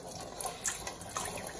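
Red palm oil pours into a cooking pot while making Nigerian isiewu, a steady liquid gush and trickle heard close up and moderately quiet for a couple of seconds with no talking.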